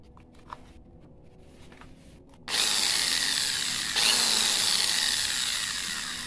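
An electric drill whirs to life after a few quiet clicks, running loud and steady with a slight jump in pitch midway.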